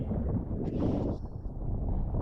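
Strong wind on open water buffets the microphone with a constant low roar, briefly joined by a faint flapping rustle of a sail.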